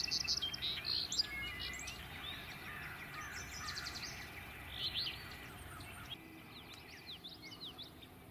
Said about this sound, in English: Another bird we have here, more commonly heard than seen, is the alder flycatcher.